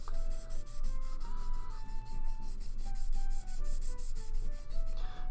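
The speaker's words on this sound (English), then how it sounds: "the part gets dusty because of all the sanding" Steady rhythmic sanding rubs on a Gunpla plastic model part, each stroke repeating at a quick, even pace close to the mic, with faint music in the background.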